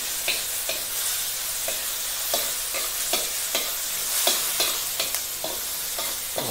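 Nasi goreng is stir-fried in a pan under a steady loud sizzle, with a spatula scraping the metal in regular strokes throughout, close up and with no voices.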